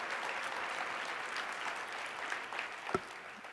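A conference keynote audience applauds FoodCorps members, dense steady clapping from a large crowd filling the hall, with one sharp louder clap near the end.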